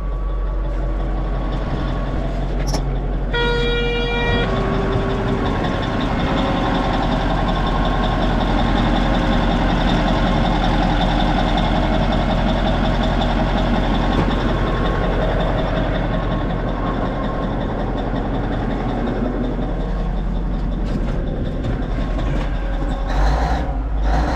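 A Caterpillar 773B haul truck's big diesel engine settles into a deep, steady idle just after firing up. The loud, continuous low rumble stays close and unbroken, with a short rising mechanical whine near the start.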